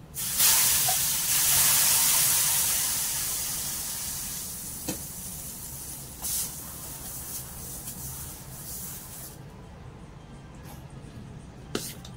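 Masala dosa cooking on a hot pan gives a loud, steady sizzle and hiss that starts strong and slowly fades over several seconds, with a few faint clicks near the end.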